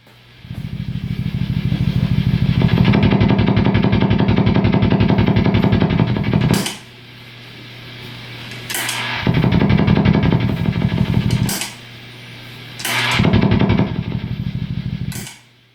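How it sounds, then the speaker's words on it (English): A Mesa Boogie Single Rectifier 50 amp at high gain, with an MXR 10-band EQ set flat in its parallel effects loop, throws out a fast, choppy helicopter-like throbbing. It comes in loud bursts separated by quieter buzzing hum. "you're still getting the infamous helicopter noises that comes with the parallel effects loop"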